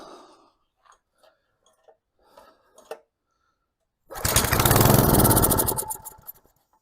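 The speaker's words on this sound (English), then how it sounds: "Got it on choke, got it on idle." A garden tiller's small gasoline engine, choked and set to idle, is tried several times with short faint pulls, then fires and runs loudly with a rough, rapid putter for about two seconds before dying away.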